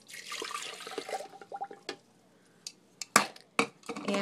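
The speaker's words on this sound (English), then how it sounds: "Okay, we're going to add the cup of hot water." A cup of hot water pours into a mixer bowl with a brief rushing splash, followed by scattered light clinks and clatters of the container and lid in a quiet kitchen.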